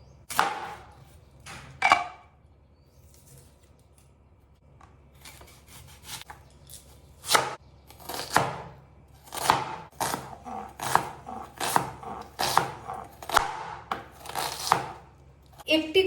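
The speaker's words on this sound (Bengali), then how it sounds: "টমেটোটাও কেটে নেব। পেঁয়াজটাও কেটে নেব।" A knife chops tomato and onion on a board, with sharp, uneven strokes that start sparse and grow into a quick, dense run of cuts, fairly close and clear with no talking.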